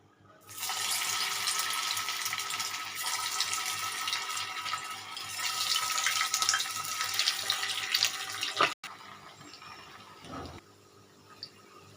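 Soybean Manchurian balls deep fry in hot oil, a loud continuous broadband hiss that holds for several seconds, cuts off sharply, then returns as faint bubbling.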